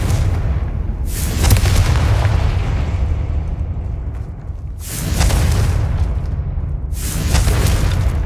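A Confringo fire spell in the video game Hogwarts Legacy sets off three loud, close, rumbling explosions about two to three seconds apart. Each blast fades into a low roar between bursts.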